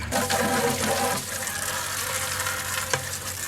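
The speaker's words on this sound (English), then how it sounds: "We're going to pour it in this pan here and pan this out." Gold-panning concentrates, thick with black sand, are poured with water into a pan, a continuous gritty sloshing and hissing pour with occasional sharper splashes, fairly close and moderately quiet.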